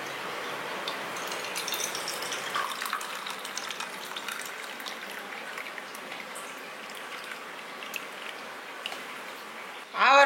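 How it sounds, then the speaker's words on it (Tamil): Avaram flower tea made with ginger and country sugar is strained and poured, giving a steady, close liquid hiss and patter with no talking. It ends with a brief louder clatter. "இப்போ நம்ம இருத்துக்கலாம்."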